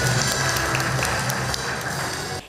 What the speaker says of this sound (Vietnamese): Xin dành một tràng pháo tay